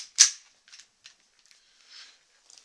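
A WE Baby Hi-Capa 3.8 airsoft gas pistol firing BBs, one sharp loud crack followed by fainter scattered ticks and small snaps as the pellets land, quiet between, no talking.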